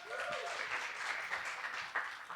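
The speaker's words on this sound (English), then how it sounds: "Can we have a round of applause for them, sir?" An audience at a photography talk and event gives a round of applause for three volunteers called up on stage, a moderate, steady clapping from a crowd that holds evenly and tapers slightly near the end.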